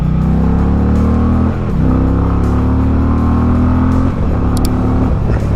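Indian bagger motorcycle carrying two riders accelerates hard on the road, its loud steady engine drone rising in pitch through the gears with two brief dips at shifts, close and continuous with no talk.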